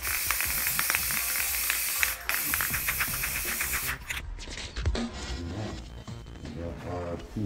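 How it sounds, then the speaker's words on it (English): Plasti Dip spray paint hisses from an aerosol can onto a cosplay bow in a steady, close spray for about four seconds, followed by quieter handling sounds and short rubbing noises. "I'm gonna grab some Plasti Dip, cover this whole thing."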